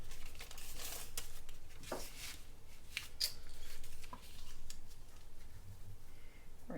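Scissors snip through paper being cut to size for a sewing pattern, a few close, crisp cuts and crinkles over a steady background hiss, with no talking.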